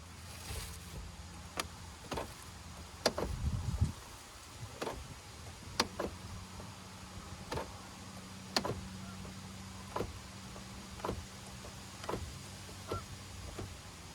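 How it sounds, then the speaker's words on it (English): A series of sharp mechanical clunks from a faulty 2013 Honda Fit's power door locks, constantly locking at irregular intervals over a steady low engine idle, with a brief rumble early on. "No, that was a triple lock."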